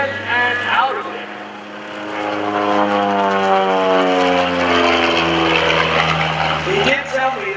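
A Decathlon aerobatic propeller airplane performing at the Greenwood Lake Airshow drones loudly and continuously, its engine pitch rising and falling through the maneuvers, with a voice talking over it at times.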